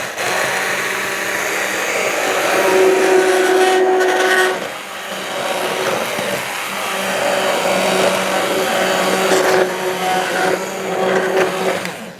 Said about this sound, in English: So I'm going to use my stick blender and I'm going to turn it on and let it come together.